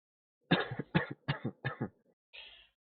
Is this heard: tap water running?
no